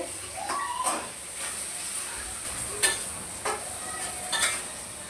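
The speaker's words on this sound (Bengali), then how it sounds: "এই যে পেঁয়াজ ভাজা প্রায় হয়ে আসছে।" Onions frying in a pan, a continuous close sizzle broken by a few louder scraping stirs at intervals, fairly loud, with no speech over it.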